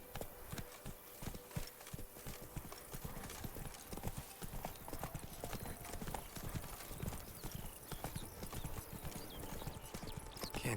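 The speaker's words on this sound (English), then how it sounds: "Whoa there, Roach." Horse hooves clip-clopping in a steady galloping rhythm in the video game The Witcher 3, close and continuous with occasional neighs, game speech heard over it.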